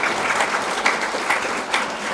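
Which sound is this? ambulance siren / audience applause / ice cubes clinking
audience applause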